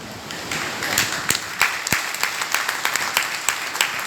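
A seminar audience claps, starting as a soft patter and rising into loose, sharp individual claps that stay close and uneven.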